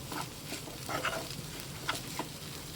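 Squid thoran with grated coconut stirred in a pan: a gentle, steady frying sizzle broken by a few soft scrapes and clinks of the spoon at irregular intervals.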